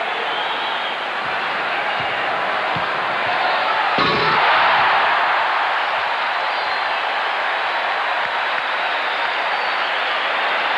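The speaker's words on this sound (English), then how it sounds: "Now, Michael Jordan with the second of his 3 dunks in the semifinals." Michael Jordan's semifinal slam dunk at the 1988 Slam Dunk Contest in front of his home crowd: a sustained arena roar swells sharply with a dull thump at the dunk, then stays loud and broad.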